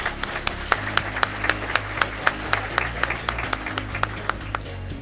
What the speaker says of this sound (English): Let's give our Star Scrapbook Award recipients one last round of applause.